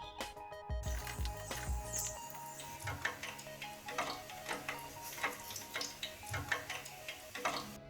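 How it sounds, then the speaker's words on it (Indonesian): Oil sizzles and crackles steadily as thin pastry wrappers fry, with scattered sharp pops and ticks throughout, close and moderately loud. "lalu goreng secukupnya potongan kulit lumpia"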